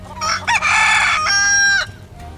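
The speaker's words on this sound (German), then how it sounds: "Die Hühner wirken ebenfalls glücklich." Chickens in the video game Final Fantasy VII Rebirth give a loud, close crowing call lasting about two seconds, standing alone without any talk.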